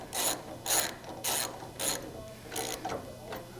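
A ratchet works bolts tight on a Mk5 car build, clicking in about five quick bursts of rapid pawl clatter separated by short pauses, close and fairly quiet with no talk.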